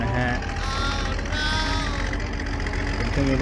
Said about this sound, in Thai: เสียงเครื่องยนต์นะครับผมนะฮะ